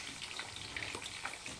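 Milkfish (bangus) frying in a pan of hot oil, a steady close crackling sizzle with small pops, continuous and unbroken.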